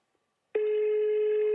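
A single ringback tone on a phone call, a steady electronic buzz lasting about a second, heard clearly and alone while waiting for the other end to pick up.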